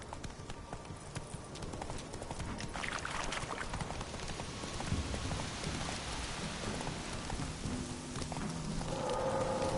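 Hooves of Roach, a horse in The Witcher 3, clip-clopping in a steady galloping rhythm through rain, with rainfall hissing throughout and a faint game tone near the end.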